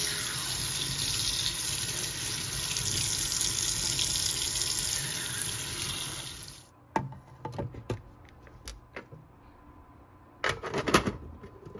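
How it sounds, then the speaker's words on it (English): A sink faucet runs loudly as a filter is rinsed under the stream, a steady gush for about six seconds before it shuts off, followed by scattered drips, knocks and a short burst of water near the end. "Now we'll go ahead and rinse this thing underneath the sink."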